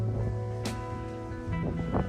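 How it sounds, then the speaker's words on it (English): Strong wind gusting across a steep, gravelly hilltop on the Vlorë bypass above the bay in Albania, a steady rough roar buffeting the microphone with brief louder gusts. "Super windy up here on the Vlore bypass."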